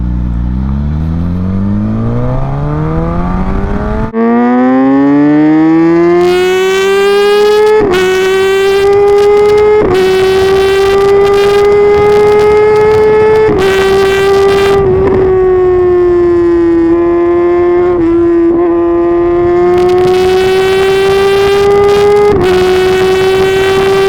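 A Mahindra Thar engine tuned with a Rapid Bike Evo module revs loudly and up close, climbing from idle to a sustained high drone with several brief throttle lifts and returns, running alone for the whole stretch.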